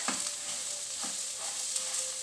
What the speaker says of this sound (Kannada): ಬೊಕ್ಕ ಚೂರು ಈರುಳ್ಳಿ ಫ್ರೈ ಮನ್ಪುಗ ಶೋಕುಡು